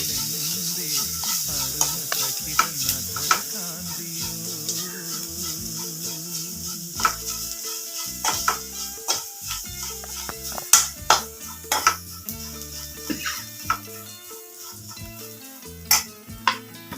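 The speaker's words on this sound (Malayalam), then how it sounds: "ബ്രൗൺ കളറാവുന്നവരെ നന്നായിട്ട് ഇളക്കുക" Jackfruit puzhukku stirred in a pan as it browns with fried coconut, a constant sizzle under repeated scraping and clinking spoon strokes, louder taps growing more frequent later.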